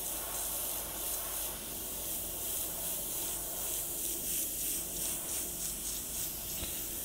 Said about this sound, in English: We're going to start spraying over the top of this particular layer.